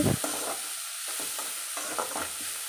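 Vegetables stir-frying in a pan for egg hakka noodles, a bright continuous sizzle broken by several quick tossing and scraping strokes close up.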